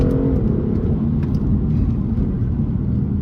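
BMW M2 CS rear-wheel-drive sports car being driven hard, with a loud, steady engine and road roar filling the cabin and no talk.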